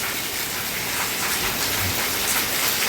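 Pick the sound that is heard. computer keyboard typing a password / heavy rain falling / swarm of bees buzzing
heavy rain falling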